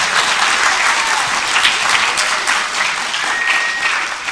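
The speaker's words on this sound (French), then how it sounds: "Applaudissements s'il vous plaît pour votre tête." An audience at an influencer panel talk at a gaming convention (TGS 2023) breaks into dense, loud, sustained applause that holds steady throughout, with no voices audible over it.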